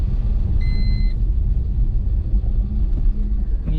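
Car in second gear on a potholed village road, a steady loud low rumble throughout with a brief beeping tone early on and no talk.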